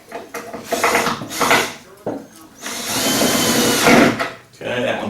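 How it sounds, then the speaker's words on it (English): A power drill bores into a walnut log in bursts, whirring at close range between pauses, with someone talking in the gaps. "I'm going to drill another hole over on this side"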